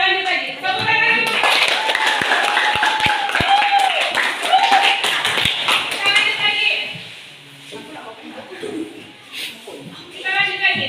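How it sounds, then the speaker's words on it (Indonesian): A class of young pupils claps together at the teacher's prompt, a dense burst of hand claps with sharp taps and childish chatter running through it, tapering off toward the end before voices resume. "Tepuk tangan dulu."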